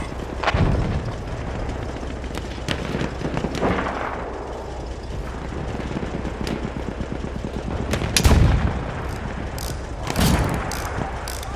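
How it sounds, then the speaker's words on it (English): Battlefield 1 battle noise: bursts of machine gun fire mixed with heavy artillery blasts and explosions, several loud near impacts standing out over a constant rattle of distant gunfire, with no talk. "Machine gun! Over there!"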